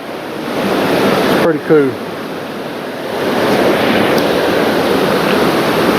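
Water rushes steadily over the dam at the old Kymulga grist mill, a loud broadband roar heard up close, with someone briefly speaking over it.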